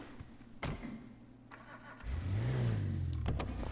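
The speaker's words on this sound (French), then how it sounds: "Là on va écouter le bruit du moteur." Engine of a huge car in GTA V Online starts up and revs, a low swelling roar rising then easing over steady game ambience, with no talk.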